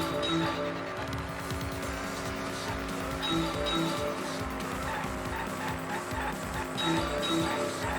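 Car engine in Danganronpa V3: Killing Harmony roars steadily while tires squeal and skid repeatedly, with music layered underneath.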